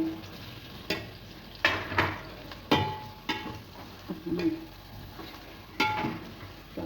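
Chopped onions fry in very hot oil for aloo gosht, a steady sizzle punctuated by repeated stirring scrapes and clatters against the pot, with faint background voice.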